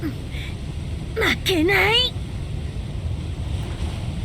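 Wind and ocean waves in the visual novel Aoi Shiro form a steady roaring wash from start to finish. A short wavering voice cries out briefly over it.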